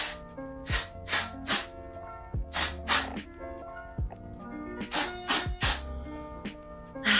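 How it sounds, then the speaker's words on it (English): Hair texture spray hisses from a bottle in short, sharp bursts, grouped in clusters of two or three with pauses between, close and fairly loud, with no talk. "And then literally just gonna spray like a little bit."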